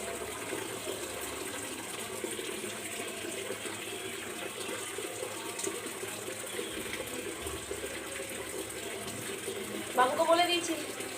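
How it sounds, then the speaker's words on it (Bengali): Water runs steadily from a tap in a home kitchen in the morning, a continuous moderate rush that lasts throughout, with a brief louder splash near the end. "সকালবেলা তো একটু জলটা ভরে দিচ্ছি"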